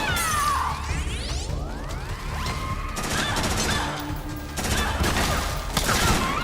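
Grenade explosions in the game Metal Gear Solid 4, a loud continuous barrage of blasts, crashes and whooshing debris with sweeping effects, layered over game music and ambience.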